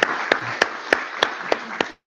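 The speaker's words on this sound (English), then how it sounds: "applaud again because the," An audience at a lecture on physics-informed neural networks claps at a slow, even pace, with seven sharp, separate claps about a third of a second apart, then silence.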